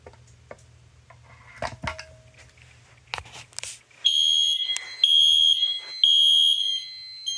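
An i4 mini horn on a fire alarm system sounds in loud repeated pulsed blasts after some handling clicks and knocks, each blast a shrill electronic tone separated by short gaps.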